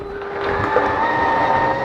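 A bedroom slide-out on a 2014 Forest River Sunseeker 225L RV retracting inward, giving a steady motorized hum and grinding drone that runs unbroken and fairly loud for the whole stretch, with no voices over it.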